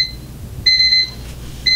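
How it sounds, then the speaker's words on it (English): Wooden alarm clock with wireless Qi charging sounding its alarm: bright electronic beeps in short repeated bursts separated by brief gaps, fairly close and moderately loud, not piercing. "So I set my alarm for 7:30 p.m. or 19:30 for military or police types."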